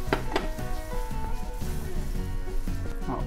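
Banana pieces frying in a pan with almond powder for breakfast crepes, a steady close sizzle with clinks and stirring scrapes, no voices.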